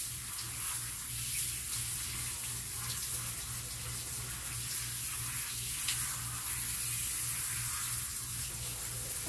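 Steady rush of running water from a tap pouring continuously and close, rinsing a long-furred dog in a bath, with a low hum beneath.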